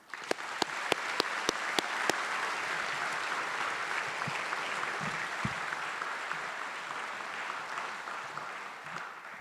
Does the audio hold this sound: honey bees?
no